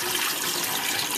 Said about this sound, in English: Wash and drain.